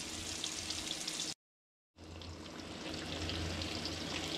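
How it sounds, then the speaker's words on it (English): Small crappie fillets sizzle steadily in hot oil, a constant close crackling hiss broken by a brief gap of silence. "Fry it a couple minutes on each side."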